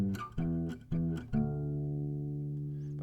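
An acoustic guitar plays the melody of a song, with a few plucked notes ringing out and a final low note sustaining and slowly fading, close and alone.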